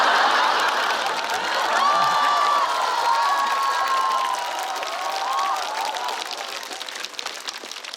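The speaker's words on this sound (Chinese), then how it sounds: "你们笑了，你们鼓掌了" A stand-up comedy audience breaks into sustained applause with cheers and a few whoops. It is loud and dense at first, then eases off slightly over about eight seconds.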